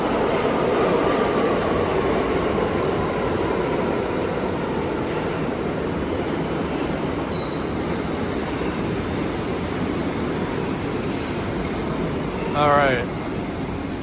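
A subway train rumbles loudly and steadily through the 79th Street station, its wheels squealing briefly near the end, with a short bit of speech.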